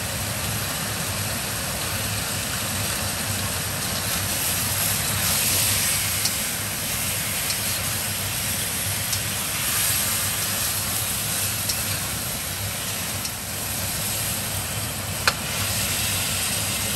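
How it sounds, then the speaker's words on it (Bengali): A blender grinding roasted spices into a thick paste for butter chicken, a loud steady motor whir with a constant churning roar, close and unbroken throughout, no voices. "এখন এটাকে ব্লেন্ড করে ফেলবো, ব্লেন্ড করে একটা পেস্ট ক্রিয়েট করবো"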